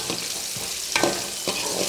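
Finely chopped onions fry in oil in a pan for chitranna, giving a steady close sizzle with a few stirring scrapes and no talking.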